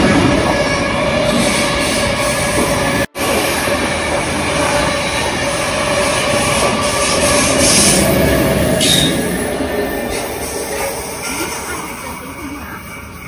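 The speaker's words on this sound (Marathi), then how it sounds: "ट्रेन पण आली ना." A train runs along the track beside a lake in Switzerland, a loud, close rumble of passing carriages with wheel clatter and a high squeal, slowly fading toward the end.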